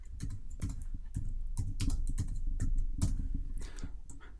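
Fingers type on a computer keyboard, a quick, close run of uneven key clicks lasting a few seconds with no voices.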